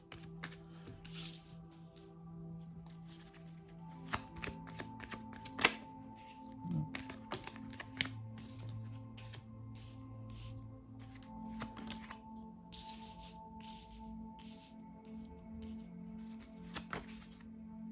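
Oracle cards being shuffled during a card reading, a steady run of papery riffles and flicks with occasional sharper card snaps, close and fairly quiet, with no talking.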